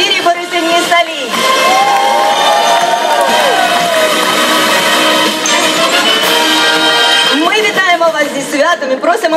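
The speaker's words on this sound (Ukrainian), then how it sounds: "Та оплески групі операторів 306" Graduation crowd at a Ukrainian vocational school ceremony cheering, whooping and shouting loudly and continuously, a dense roar of many voices with applause blended in.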